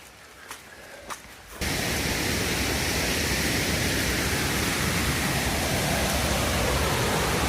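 Water rushes loudly beside a hiking trail on the Allegheny Trail, a steady broadband roar that fills the clip after a quieter opening with a couple of faint taps.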